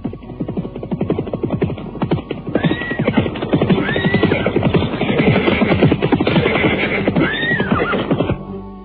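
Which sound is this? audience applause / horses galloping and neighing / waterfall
horses galloping and neighing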